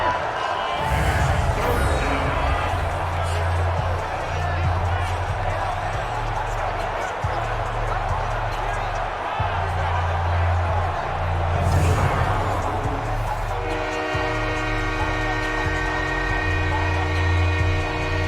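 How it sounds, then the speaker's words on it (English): Simulated stadium crowd roaring in an NFL video game, Rams at Bills, a steady loud wash of cheering building ahead of a big third down, with game music and tones underneath. "the crowd getting into it as we come up on a big 3rd down"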